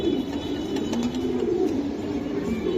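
Racing pigeons cooing on a farm, a steady low murmur of overlapping coos running throughout at close range with no talk over them.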